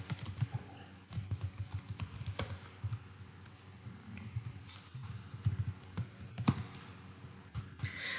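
Close, quiet typing on a computer keyboard as JavaScript code is entered, steady irregular key taps with a few heavier strokes and brief pauses.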